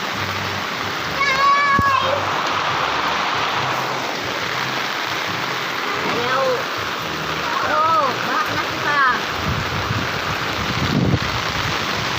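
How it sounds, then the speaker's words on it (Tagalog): Floodwater in a flooded neighborhood sloshes and splatters steadily throughout, a broad wet wash under a child's and adults' voices, with faint chirps in the background. "Baha tayo dito. Sobrang baha."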